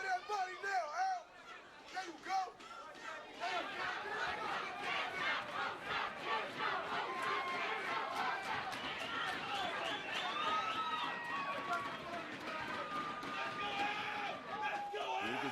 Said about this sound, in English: You can see the crowd obviously into this fight